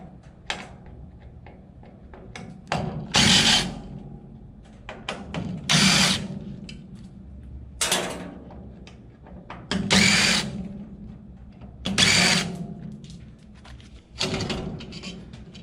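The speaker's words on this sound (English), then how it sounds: "Let's get these screws off of here first." Power drill backing screws out of a fuel control station being scrapped, several separate whirring bursts of a few seconds each with short pauses between, close and fairly loud.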